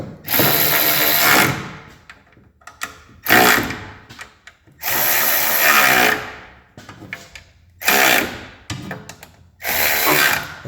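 A hand ratchet tightens gasket bolts on a 1978 AMC Gremlin, heard as several loud, close bursts of rapid clicking separated by short pauses.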